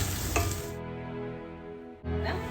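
Onion, ginger and garlic sauté in a pan for a beef kofta curry, a close frying sizzle that drops away midway and returns abruptly.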